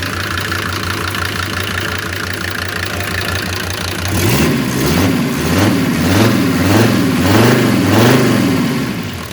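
A Mercedes OM602 2.9-litre diesel engine idles steadily at close range, then revs up in several repeated surges, its pitch climbing and falling with each push.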